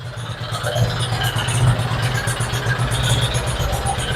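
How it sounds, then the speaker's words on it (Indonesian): A restored 1985 Binter Joy motorcycle engine runs steadily at idle, a low rumbling putter with mechanical clatter, close and continuous throughout. "Nah, mesinnya nyala. Suaranya enak banget."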